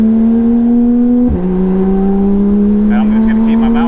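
A Porsche 911 GT3 RS engine driving on a road, a loud, steady tone close up that dips briefly at a gear change, then holds steady as the car keeps pulling.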